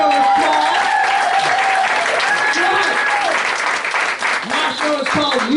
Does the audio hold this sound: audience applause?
yes